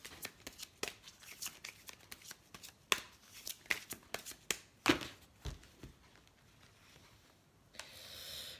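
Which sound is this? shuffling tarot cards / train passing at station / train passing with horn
shuffling tarot cards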